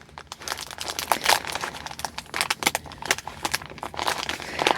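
Gift package being torn open by hand, with loud, close crinkling and ripping of paper or plastic wrapping in rapid bursts throughout, without speech.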